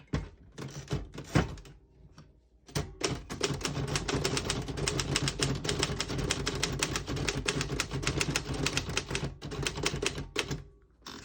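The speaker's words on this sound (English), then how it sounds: "all the keys type nice and none of them skip or stick" Rapid, steady clacking of a 1950 Royal KMG manual typewriter's keys, close up, continuing for several seconds with a brief pause near the start.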